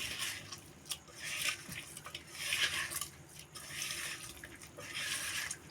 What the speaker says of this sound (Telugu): ఇవి వేసుకున్న తర్వాత చేత్తో బాగా కలుపుకోవాలండి